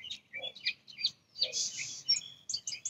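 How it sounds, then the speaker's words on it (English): Birds chirp outdoors in the morning as a drizzle begins, a series of short, bright tweets and calls. They come in quick clusters with brief pauses and sound moderately close, with no talk. "I want to be among the sound of birds chirping."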